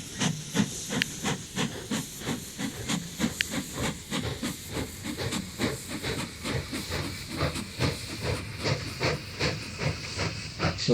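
Steam locomotive in the Mashinky railway-building game hissing and chuffing steadily, a loud rhythmic pulse of bursts running throughout with no voices.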